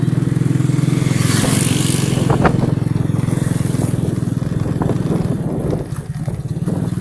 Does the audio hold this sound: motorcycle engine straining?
yes